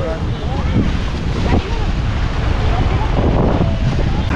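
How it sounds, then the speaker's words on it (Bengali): Rough waves on the river at Diamond Harbour churn and wash continuously, loud and close, mixed with heavy wind buffeting the microphone throughout. "আর ঢেউ দেখো, উত্তাল ঢেউ।"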